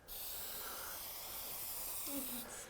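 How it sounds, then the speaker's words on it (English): Spray paint hisses onto a board while building a simple shelf, one close, continuous jet that stops just before the end, with a brief voice near the end. "So get yourself in the middle, start out spraying past, and go past it."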